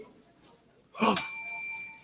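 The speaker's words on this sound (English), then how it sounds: "I do like the sound of that bell, though." A quiz-show answer bell rings once at a live geek podcast event, a bright metallic ding that strikes near the middle and rings out with a long sustained tone, with faint murmur before it.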